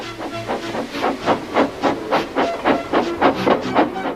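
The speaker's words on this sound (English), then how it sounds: "with much noise and blowing of steam, got ready to back onto the train" A steam engine chuffs rhythmically, regular hissing puffs of steam repeating about three times a second, close and fairly loud.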